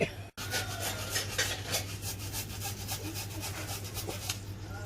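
A steady back-and-forth rasping of a small saw blade cutting through a fibrous banana stem, repeated strokes close up over a low constant hum.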